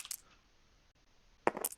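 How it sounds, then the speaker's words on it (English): Damage dice tumbling across a table during a Shadow War tabletop game: a short clatter at the start, a quiet pause, then a louder burst of rattling and clicking near the end, with no talk. "So I'm going to roll dice."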